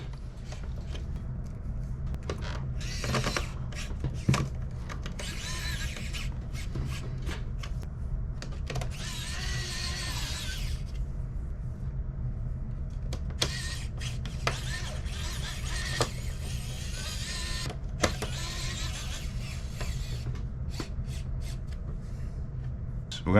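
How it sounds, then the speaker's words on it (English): Small screws being driven into a PS3 power supply during a Yellow Light of Death repair, giving soft clicks and scraping ticks of the screwdriver with faint handling noise, close by and fairly quiet. "So we're going to start installing the smaller screws for the power supply."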